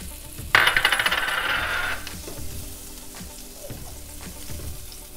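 A stick of butter hits a hot pan with a burst of crackling sizzle for about a second and a half, then settles into a quieter, steady low bubbling as it melts.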